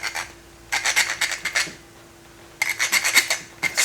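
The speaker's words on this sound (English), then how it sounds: "I do have this little filing thing, kind of like a rethreader." Small thread file rasping across damaged threads on a John Deere Gator steering part, two bursts of rapid scraping strokes separated by a pause, close and fairly loud, no talk.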